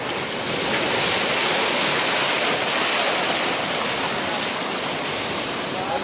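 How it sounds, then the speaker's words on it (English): River water rushing over rocks in a loud, constant broadband roar, close by and unbroken throughout. "Watch the water run."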